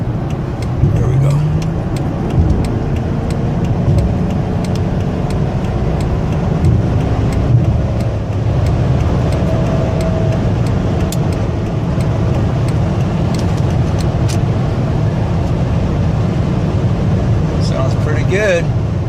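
Chrysler Hemi car engine while driving, a loud, steady low drone with road and wind noise throughout, heard from inside the moving car.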